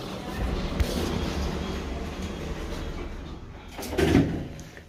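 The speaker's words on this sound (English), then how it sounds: "Doors closing." Doors of a Stannah passenger lift at Horsham railway station slide shut, a steady mechanical rumble under station ambience, ending in a louder thud as they close.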